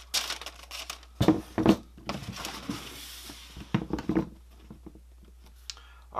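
Brown tissue paper crinkles and rustles while Air Jordan 12 Playoff sneakers are unboxed, with several close, sharp bursts of crumpling separated by short quiet gaps.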